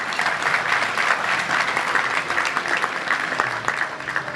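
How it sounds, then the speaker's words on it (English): At a Little Rock Touchdown Club gathering, a crowd applauds the Darren McFadden Award finalists with steady, full clapping that fills the room evenly from start to finish. "Round of applause."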